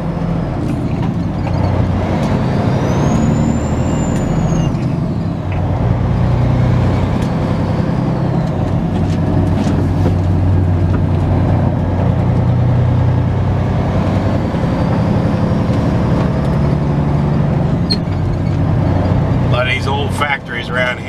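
Continuous low rumble of a truck engine rolling along a road, heard from inside the cab with shifting drone and occasional higher whines, loud and steady throughout while a person talks over it.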